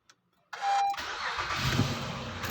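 A 2014 Honda Accord V6 cranks and fires up after a brief click, settling into a steady, fairly quiet running idle close by.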